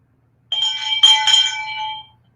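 A small hand bell rung close by, one bright metallic burst that rings for about a second and a half and then fades out.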